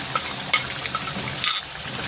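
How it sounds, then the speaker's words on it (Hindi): Ground chillies, coriander, white cumin, turmeric and salt fry in a pan for chicken badami, giving a bright continuous sizzle with two brief louder scrapes of stirring. "भून लेंगे इसको अच्छी तरह।"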